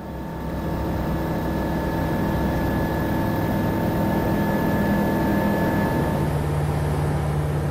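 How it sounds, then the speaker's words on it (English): A new private jet engine drones steadily and loudly during a test flight, with a constant whine and hum, unchanging throughout with no voices. "The new engine is purring along just as hoped."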